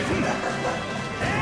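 A heavy smash attack lands in a Super Smash Bros match, one loud crashing impact over dense game sound with a faint voice in the mix.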